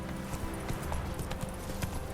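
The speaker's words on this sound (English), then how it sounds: "Whoa there, Roach" Horse hooves clip-clopping in the video game The Witcher 3, a steady, fairly quiet rhythmic plodding of footfalls.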